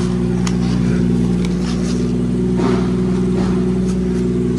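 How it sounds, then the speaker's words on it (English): A manual BMW 440i M Sport coupe's engine runs with a loud, steady low rumble throughout, holding an even idle with no distinct revs. "Now I'm gonna start the car actually"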